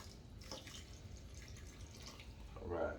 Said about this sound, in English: I think I want to put a little bit more water in